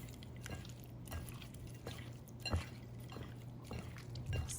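Shrimp being mixed by hand in a bowl with white pepper and salt, a soft wet squelching and dripping texture, quiet and close, with faint irregular taps and a low steady background hum.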